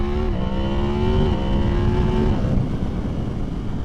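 A 2023 Yamaha MT-10 motorcycle accelerates with a loud, close engine note that climbs steadily in pitch, eases briefly as the gear changes, then pulls on again. No one speaks.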